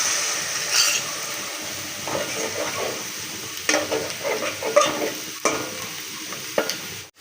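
Spice paste for aloo dum sizzles in a pan as it is stir-fried, with a steady frying hiss broken by repeated scraping stir strokes at close range and no voices.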